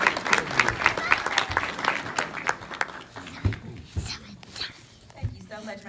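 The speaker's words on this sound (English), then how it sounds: "Give her a hand clap." Audience hand clapping at a church-style speaking event, brisk applause fading into scattered claps while voices and movement carry underneath.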